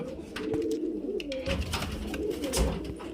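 Male highflyer pigeons of the Ablook type cooing close by, with soft, repeated low throaty coos overlapping through a short stretch.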